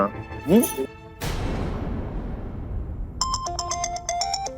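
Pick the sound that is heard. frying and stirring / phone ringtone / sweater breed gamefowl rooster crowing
phone ringtone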